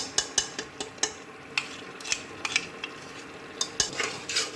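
A spoon clatters against a pot as fried onions are stirred into mutton korma, giving irregular metallic scrapes and clinks over a soft background sizzle, close and fairly quiet.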